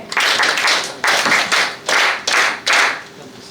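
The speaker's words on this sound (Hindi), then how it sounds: "उन्हें विशेष तालियों के साथ बधाइयां देते हैं" Students at a school prayer assembly clap in about six short, distinct bursts of applause, each a loud flurry of hands that stops abruptly before the next.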